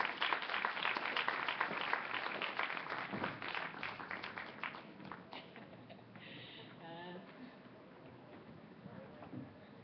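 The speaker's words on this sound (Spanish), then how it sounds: "Un aplauso fuerte" An audience applauds warmly for several seconds after a minister of labor is introduced at an evening community gathering, the clapping thinning out toward the end while voices murmur underneath.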